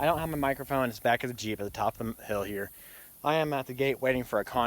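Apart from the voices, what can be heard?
No everyday noise stands out behind the speech.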